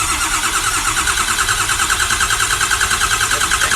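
A stubborn engine cranks over steadily with a loud, rhythmic starter whir and pulsing churn, close and continuous without catching.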